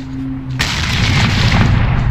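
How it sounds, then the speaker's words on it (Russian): A loud, deep boom erupts suddenly after a brief hum, followed by a sustained rumbling roar, a grenade blast in S.T.A.L.K.E.R. "На тебе гранату!"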